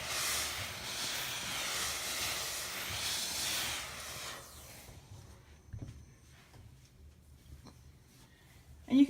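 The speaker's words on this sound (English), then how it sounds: "So again, I'm going to steam it." A steam iron hisses over interfacing on an ironing board, a long, even, close rush of steam that cuts off abruptly, followed by faint handling sounds and a soft thump.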